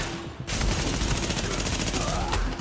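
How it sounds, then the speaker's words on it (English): Rapid automatic gunfire in the video game The Division, a loud, dense burst of shots starting abruptly and continuing in a fast rattle, close and sustained. "Reporting gunfire in the station above us."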